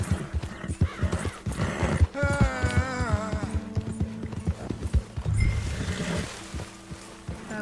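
Horse hooves clip-clop in the Red Dead Redemption video game, a quick uneven run of clopping steps at moderate volume, with a horse whinny midway and game background sounds.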